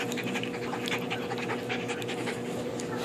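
A puppy pants rapidly and steadily up close, quick breathy puffs repeating in an even rhythm over a faint background hum.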